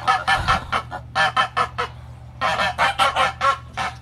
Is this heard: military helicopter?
no